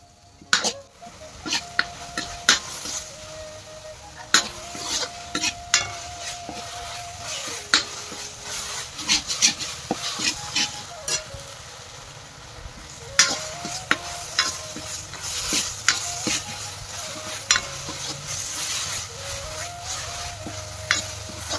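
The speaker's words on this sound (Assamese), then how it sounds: "এইখিনি অকণমান ফ্ৰাই কৰি লওঁ" Fish frying in a pan with coriander powder makes a steady close sizzle, punctuated throughout by sharp clicks and scrapes of a spatula stirring against the metal.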